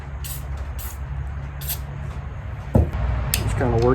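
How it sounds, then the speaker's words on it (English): Short bursts of aerosol lubricant spray hiss into the fire control group of a rusty AR-15 rifle, several quick close puffs over a low steady hum, followed by a brief voice. "I'm just going to spray a little bit in the fire control group"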